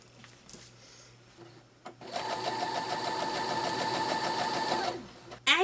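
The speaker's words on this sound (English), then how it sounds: "We're going to sew a 1/4 inch seam on this side of the line" A sewing machine runs a quarter-inch seam on a quilt block, a steady fast mechanical whir lasting about three seconds after a few quiet handling taps, close and fairly loud, with no talk.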